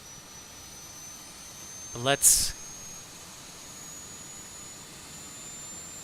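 An airliner's auxiliary power unit in Microsoft Flight Simulator 2020 drones as a steady, broadband whine, and a brief spoken word plus a short sharp sound cut through it near the start.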